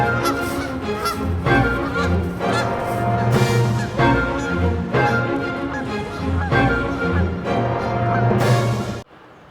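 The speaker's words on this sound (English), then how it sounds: "You can't hide from me, Canadian geese." Canada geese on a grassy lawn honk loudly and repeatedly, a close chorus of overlapping nasal calls in quick bursts that cuts off abruptly at the end.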